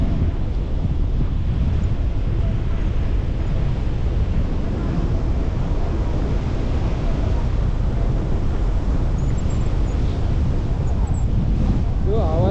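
Strong, steady wind buffets the microphone while paragliding high over Pokhara, a loud continuous low rumble with gusting texture that runs the whole time, with a brief faint voice near the end.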